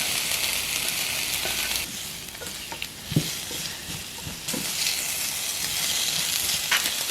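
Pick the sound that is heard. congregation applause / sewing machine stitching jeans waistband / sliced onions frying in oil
sliced onions frying in oil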